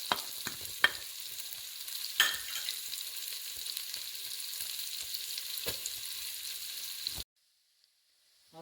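Onions and garlic sauté in melted butter in a hot pan, a steady close sizzle broken by a few sharp clicks of stirring, then cutting off into near silence at the end.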